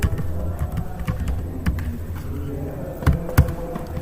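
Keys clatter on a computer keyboard as a database command is entered, scattered clicks over a low background hum with two sharper taps near the end, no talking.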